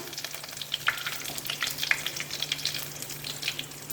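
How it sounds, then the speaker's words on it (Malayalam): Curry leaves sizzle in hot oil with mustard seeds and dried red chillies for a bottle gourd curry, a close, busy frying hiss dotted with crisp spitting pops, with no voices. "ഇനി നമ്മൾ കറിവേപ്പില കൂടി ഇട്ട് കൊടുക്കാം."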